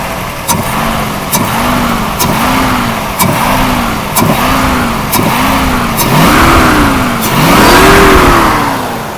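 A Mercedes W116 350SEL with a 3.5-litre V8, just repaired for a faulty fuel distributor, revved repeatedly, close and loud, in a regular series of rising and falling blips with a longer, higher rev at the end.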